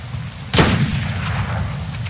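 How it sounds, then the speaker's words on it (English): A single sharp distant gunshot cracks in the video game DayZ, a sudden boom standing out over a steady low background rumble, with no talk. "I don't think they're shooting at us, are they?"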